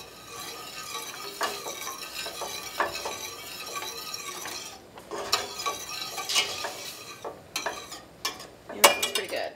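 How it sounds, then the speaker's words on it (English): Brown sugar being stirred in a cooking pan, with scraping and light clinks of a utensil against metal over a soft sizzle, irregular strokes at close range with no talking. "stir that down. Make sure all that brown sugar gets nice and dissolved"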